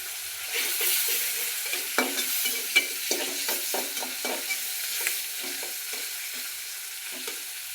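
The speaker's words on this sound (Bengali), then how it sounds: "মশলাগুলো ভাজা হোক" Garlic, cumin and spice paste sizzling and frying in a pan, with repeated scraping stirs at an irregular rhythm; close and moderately loud, no voices.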